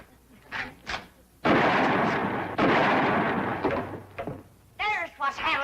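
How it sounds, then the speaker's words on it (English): A shotgun fired twice at a telephone wire in a 1960s sitcom scene, two loud blasts with a lingering rumble, followed by people talking. "It took you 2 shots to get that wire."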